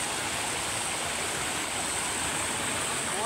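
Stream water beside a riverbank in Davao de Oro flows with a steady, full rushing wash, close and constant, with no clear voices over it.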